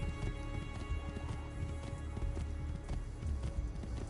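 Hooves clip-clop steadily as a horse is ridden through a video game world, a continuous rhythmic trotting with an occasional whinny, fairly loud and close over ambient game background.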